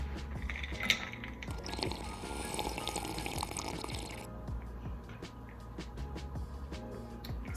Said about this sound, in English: just pour it into my cup with some ice